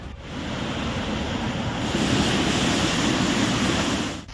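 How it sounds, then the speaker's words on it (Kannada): Rivers in flood during heavy rain in Karnataka, a steady broadband roar of rushing water, loud and continuous with no voices. "ಮಳೆ ಆರ್ಭಟಕ್ಕೆ ನೇತ್ರಾವತಿ, ಪಾಲ್ಗುಣಿ, ಕುಮಾರಧಾರ, ನಂದಿನಿ ನದಿಗಳು ಆರ್ಭಟಿಸ್ತಾ ಇವೆ"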